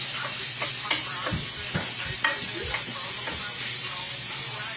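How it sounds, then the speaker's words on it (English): Food sizzling and frying in a cast iron pan while being stirred around, a steady loud hiss with scraping strokes of the utensil through it. "So just kind of stir it around, let it all kind of separate out."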